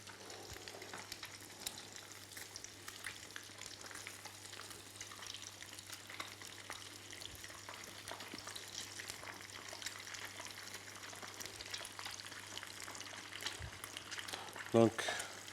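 Beignets fry in hot oil with a soft, steady sizzle that carries through the whole stretch, faint and continuous beneath someone talking.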